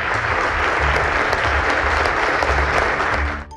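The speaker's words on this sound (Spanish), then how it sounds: "Pardo Rebolledo fue despedido con aplausos" Applause sends off a departing justice, a dense, steady round of clapping from a gathered audience that stays full and even before cutting off abruptly at the end.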